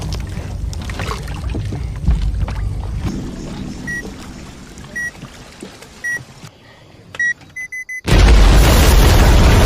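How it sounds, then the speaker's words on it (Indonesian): A pile of crates blown up by an explosive on a river route, a loud sudden blast near the end following a stretch of low rumbling water and scattered beeping tones, the burst filling the final seconds. "Tepat saat peledak itu diledakkan"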